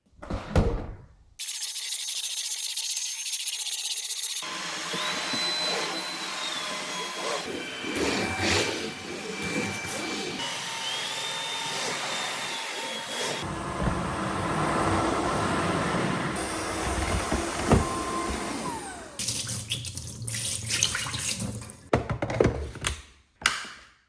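A MOVA X4 Pro cordless wet-dry floor cleaner runs with a steady, fairly loud motorized whir and rolling scrub noise that shifts in tone as it moves, with a few clicks and knocks near the end.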